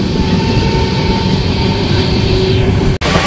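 The Kolkata-Jaynagar weekly express rolling through Belgharia station, heard from inside a 3AC coach as a loud, continuous roar of wheels on rails with steady rumble and faint clatter, briefly cut near the end.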